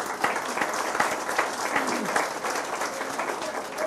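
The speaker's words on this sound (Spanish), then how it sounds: "Den un aplauso al Señor" Church congregation applauding during an Easter Sunday service, steady dense clapping from a crowd that carries on throughout, with faint voices mixed in.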